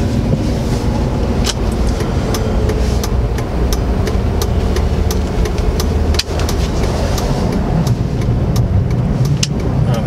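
A 2002 Chevy Avalanche Z71 4x4 with a 5.3L V8 idles steadily after a cold start in snowy weather, a loud, constant low rumble with faint ticking throughout.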